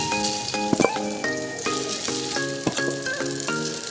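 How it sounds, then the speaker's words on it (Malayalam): Paneer cubes frying in hot oil give a steady, close sizzle with a few sharper crackles, heard under a prominent tonal musical line that runs throughout. "നമ്മൾ ഈ പനീർ നമ്മൾ എണ്ണയ്ക്കകത്ത് ഇട്ടൊന്ന് വറുത്തെടുക്കാം"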